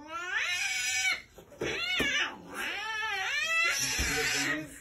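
An angry cat yowls loudly and close up in long wavering, rising and falling caterwauls, with a brief break before it starts again.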